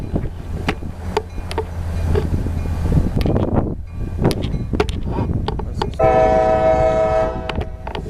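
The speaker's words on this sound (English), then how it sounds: "God, I wish that train was going faster." A slow CSX tie train rumbles past, rail cars clattering and thumping with low drone and wind noise, before the locomotive's horn blasts loudly and holds for the final couple of seconds.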